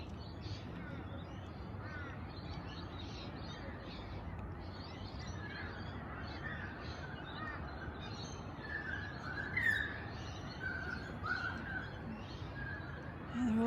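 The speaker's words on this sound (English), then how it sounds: "All the birds are waking up" Crows caw and other birds call at a morning beach, faint and somewhat distant, over a steady wash of surf and wind, with a voice speaking softly at times.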